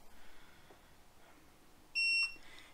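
A TST tire pressure monitoring system display gives one short electronic beep when its set button is held, clear against a quiet background.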